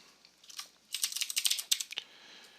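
Code being typed on a computer keyboard, with a few light taps and then a quick, close burst of clicking keystrokes before it stops, and no talking.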